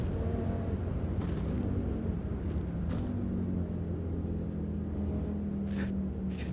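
A race car engine in the Automobilista 2 racing game on the Nordschleife makes a steady, sustained drone with a constant low rumble and a faint whine, heard alone without talk.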